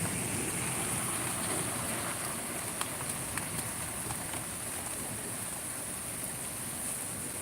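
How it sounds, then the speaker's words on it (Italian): Heavy rain during a thunderstorm pours as a steady, dense hiss throughout, with a few faint sharp ticks and no thunder standing out. "Sta aumentando l'intensità della pioggia."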